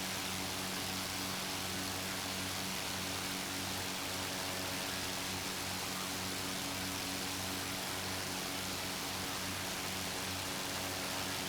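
Aircraft engine drone from Microsoft Flight Simulator 2024 during a banking turn over the Grand Canyon, a steady propeller-like hum with broad noisy wash, constant and loud throughout with no talking.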